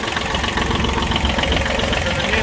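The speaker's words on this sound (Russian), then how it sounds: "Двигатель у нас здесь трехцилиндровый. Работает четко, без каких-либо нареканий." A Kubota B1-17 Japanese mini tractor's three-cylinder engine runs steadily, a loud, close, continuous mechanical drone with a rough knocking texture and no voices.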